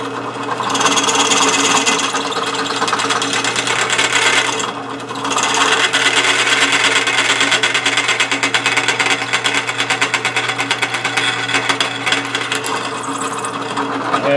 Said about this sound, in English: And let's finish drilling.